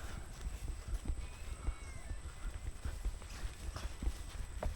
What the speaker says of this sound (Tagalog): Baby kabayo dito.